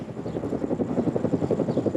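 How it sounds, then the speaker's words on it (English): A helicopter landing at Gleneagles, its steady, rapid rotor thump loud and close, pulsing evenly throughout. "Tony Blair's helicopter touched down at Glen Eagles 8 hours after he left"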